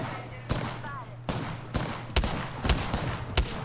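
Gunfire rattles in the video game Apex Legends, sharp repeated shots and bursts over a steady loud game mix, with no clear talk during the burst.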